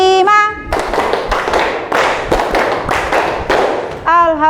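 A class of students claps together in a counting game, a series of sharp, loud unison hand claps in a quick, slightly uneven rhythm, framed by a voice speaking before and after.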